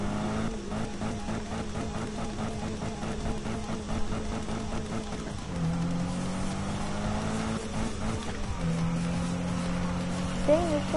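A race car engine from the Need for Speed video game holds a steady, droning tone that steps up in pitch at shifts, loud and continuous throughout.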